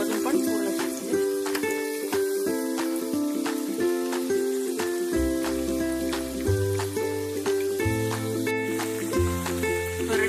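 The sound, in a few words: frying Maharashtrian dal vade on low flame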